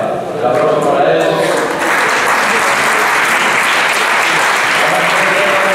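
Applause at a tribute to Asturian international handball players, a dense, loud, continuous round of clapping from a crowd, steady throughout with a brief dip near the start.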